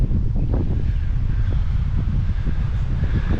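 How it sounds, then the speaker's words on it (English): Strong wind buffets the microphone in a cemetery in Arkansas, producing a continuous loud, low rumbling gust noise with no other clear sounds. "And I know the wind is probably horrendous."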